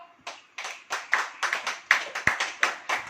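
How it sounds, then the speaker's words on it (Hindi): A church congregation claps in unison during a worship service, about eleven sharp claps at a steady, brisk beat that fills the room. "ताली बजाओ"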